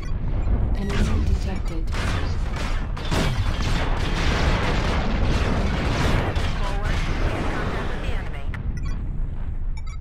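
Dense, continuous battle din from MechWarrior Online as an enemy mech is destroyed: loud booming blasts and rapid weapon fire stacked over each other for the whole stretch, with a voice faintly audible underneath.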